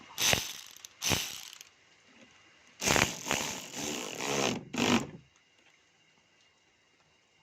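Battery-powered ratchet wrench with a free-lock handle driving a fastener in, heard as several loud bursts of whirring ratchet clicks separated by short pauses, with no talking.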